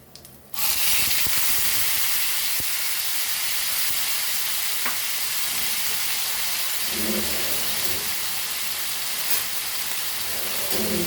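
Onion and tomato hit a hot pan with hing for Goan red amaranth bhaji, bursting into a steady, loud sizzle that holds throughout with occasional stirring scrapes.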